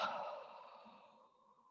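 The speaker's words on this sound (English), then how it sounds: "Exhale through the mouth." A single long exhale through the mouth during a guided stretching and breathing routine, soft and close, starting with a breathy rush and fading out over under two seconds.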